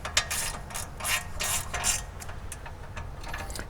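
Ratchet wrench working a brake caliper bolt on a Chevy/GMC 4x4 truck: quick bursts of clicking pawl strokes in an uneven rhythm, close and fairly quiet, with no talking.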